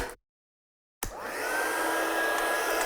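A heat tool clicks on after a short silence and blows with a steady, loud whirring hiss, drying alcohol ink sprays on a handmade card.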